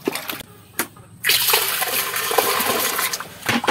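Dirty water with mango leaves in it dumped out of a container during outdoor washing, a short burst of splashing followed by a sustained close, loud pour and slosh lasting a few seconds.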